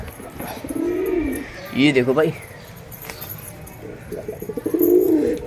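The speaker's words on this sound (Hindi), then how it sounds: "हमारे अब सारे कबूतर आ गए हैं।" Pigeons gathered at a home loft give soft throaty coos in short bursts, close by, with someone talking briefly and a metallic jingle between calls.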